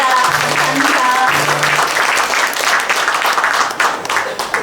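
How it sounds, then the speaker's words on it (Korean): Applause fills the hall at an anniversary ceremony for a Busan civic association, a loud, continuous clatter of many hands. A few brief steady tones sound faintly near the start. "그분들을 위해서 뜨거운 박수 한번 보내주시겠습니다."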